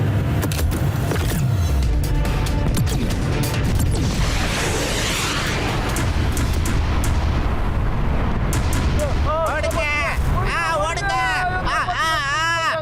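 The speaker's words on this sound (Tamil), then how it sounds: "எதுக்கு இங்க தீபாவளி பட்டாசெல்லாம் வெடிச்சுக்கிட்டு இருக்காங்க?" Dense, continuous crackle and booming of Diwali firecrackers bursting in a cartoon street scene, loud throughout, with excited crowd voices and other sounds mixed in toward the end.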